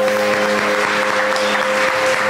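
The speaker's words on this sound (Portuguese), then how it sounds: "Vamos aplaudir o nosso Deus." An audience at a Catholic youth retreat applauds, a loud, steady wash of clapping that lasts throughout.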